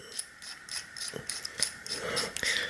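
A bearing cone is threaded by hand onto a Fuji Nevada mountain bike hub axle, producing small close metallic ticks and light scraping clicks in an irregular run, quiet and without talk.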